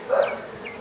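A swarm of honey bees gathering around a hive box gives off a short, steady buzzing hum at moderate loudness, with no voices.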